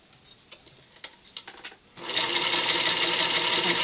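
A sewing machine chain piecing fabric quilt blocks for flying geese: a few soft clicks and taps of handling, then the machine starts into a loud, steady, fast stitching whir close by.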